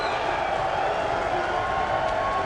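Crowd at the 2015 Mosconi Cup pool match between Team USA and Team Europe, a steady, loud wash of cheering and noise in the arena, sustained without break.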